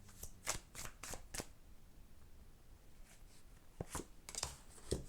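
Tarot cards shuffled during a reading, two short flurries of crisp riffling flicks separated by a pause, close but quiet, with no speech.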